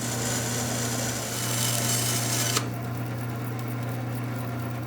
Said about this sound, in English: Unfortunately, the blade was drifting too badly, so I had to abandon the fence and just cut it freehand.